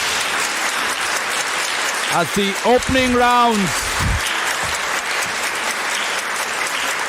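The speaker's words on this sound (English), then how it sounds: "to rousing applause" Steady applause fills the room under someone speaking briefly in the middle, the clapping continuing throughout at a moderate, even level.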